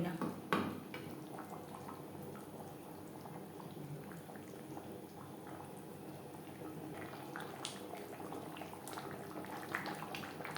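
Pangas fish curry with potatoes bubbles softly in its gravy, a low continuous simmer with small pops and a faint clink of a pot near the start, quiet and steady throughout.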